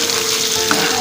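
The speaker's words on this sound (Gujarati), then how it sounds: "મેં અહીંયા એક પેનમાં તેલ ગરમ મૂક્યું છે, 1 ચમચી જેટલું. હવે આપણી તૈયાર થયેલી પેસ્ટ આપણે અહીંયા એડ કરીશું." Spice paste hits about a spoonful of hot oil in a pan and fries with a loud, steady, close sizzle throughout.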